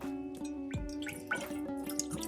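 Milk poured into a pot for making atala porridge, a close, gurgling, bubbling stream with small splashy drips, soft and continuous over a couple of seconds, no talk.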